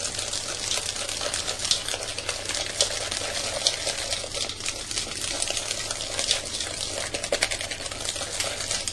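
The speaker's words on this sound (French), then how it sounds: "On continue à battre le tout" Whisk beating cornstarch into a pastry cream base in a bowl for a homemade raspberry tart, giving a steady, continuous rapid scraping and clicking texture, close and fairly loud, with no talking.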